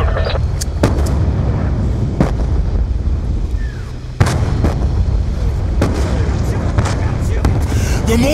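Mortar fire in Call of Duty: Black Ops 2, with repeated heavy booms and sharp blasts at irregular intervals over a constant rumbling battle background, with voices speaking in the mix.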